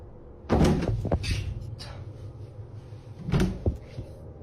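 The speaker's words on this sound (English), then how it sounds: "Oh, door's closed." A door closing in a quiet room, heard as two solid thumps about three seconds apart, the first louder with a brief rattle, set against a low steady background hum.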